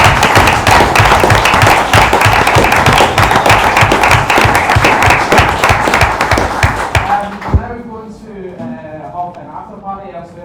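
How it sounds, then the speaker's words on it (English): Loud, dense applause from a student union audience at an EU election hustings at Strathclyde University, sustained for several seconds before cutting off, followed by a voice speaking. "I can also just give a round of applause"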